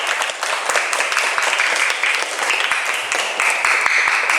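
A group claps for everyone in a teaching session, producing a brief, busy patter of hands that is fairly loud and close, with no speech over it.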